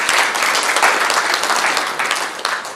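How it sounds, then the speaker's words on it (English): Audience applause at an academic research colloquium, a dense, steady wash of many hands clapping that fills the whole stretch at a loud, even level with no talk over it. "Let's give them a round of applause."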